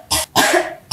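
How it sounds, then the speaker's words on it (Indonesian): A lingering cough that has lasted two weeks, two close, harsh coughs in quick succession, loud and dry, with nothing else around them. "gue perhatiin udah 2 minggu lo batuk terus"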